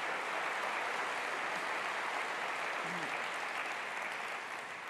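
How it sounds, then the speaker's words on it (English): An evening audience in Halifax claps for a presenter named Monica Farley: steady, fairly quiet, even applause that fades slightly near the end, with no voices on top. "a great round of applause for Monica Farley"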